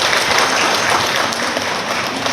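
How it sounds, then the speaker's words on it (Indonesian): Loud, dense audience applause fills a hall at a gathering about ceramics small businesses, a continuous wash of clapping with no pauses. "Tepuk tangan dulu."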